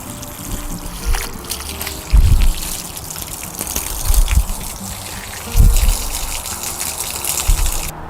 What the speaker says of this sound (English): And the final step, we're going to water this tree in.